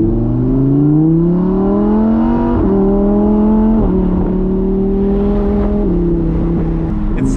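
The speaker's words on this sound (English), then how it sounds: "It sounds amazing, this naturally aspirated V10." A naturally aspirated 5.2-liter V10 engine accelerates on the road with a loud, rising howl that climbs through several gear changes, each marked by a brief dip before the pitch builds again, close and steady throughout.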